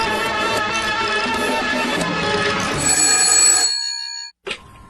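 A telephone bell rings loudly and steadily for about four seconds, with a dense metallic timbre, then cuts off into silence before a brief final burst.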